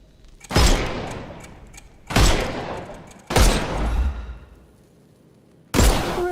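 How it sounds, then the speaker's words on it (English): Four heavy gunshots ring out one at a time in Sherlock Holmes Chapter One as armour is blasted off enemies, each a loud close boom with a long decaying echo, spaced a second or two apart. "Shoot off their armour."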